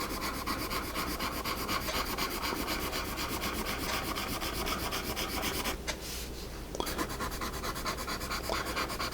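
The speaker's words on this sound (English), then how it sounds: "You can probably hear that these are on the scratchy side." An HB pencil scratches on paper in close, steady strokes, a dry continuous rasping with a brief pause partway through.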